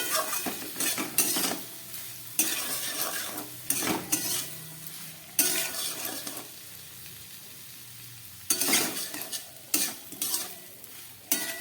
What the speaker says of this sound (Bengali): ভালো করে কষিয়ে নিলাম